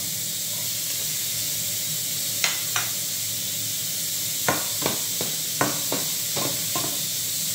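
Garlic frying in hot cooking oil gives off a constant bright sizzle and hiss, broken by several sharp spatula taps and scrapes against the pan, close and fairly loud with no talking.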